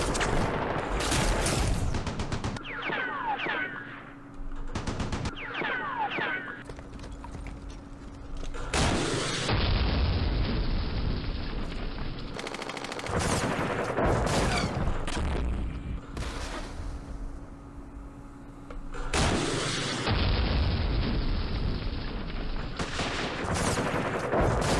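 Artillery fire in the wargame Campaign Series Middle East: repeated loud booming volleys and crackling bursts of gunfire arriving in several heavy waves across the scene.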